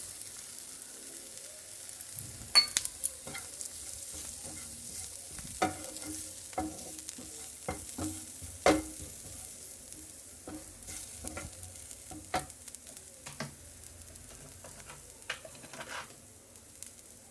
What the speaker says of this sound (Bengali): পেঁয়াজ, আদা রসুন আর কাঁচা লঙ্কা দিয়ে হালকা নেড়ে নিতে হবে